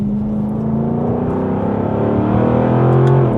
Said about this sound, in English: you can hear like how loud the exhaust is now